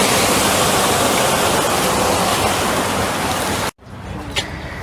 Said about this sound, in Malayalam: അപ്പോൾ അവിടുന്ന് താഴേക്ക് ഇങ്ങനെ വെള്ളം വീണിട്ട് നല്ല സൗണ്ട് ഉണ്ട്